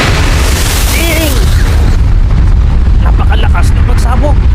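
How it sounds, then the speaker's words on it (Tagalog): A huge anime explosion booms loudly and continuously, with a dense roaring rumble and debris crackle throughout while voices shout briefly over it. "Napakalakas ng pagsabog!"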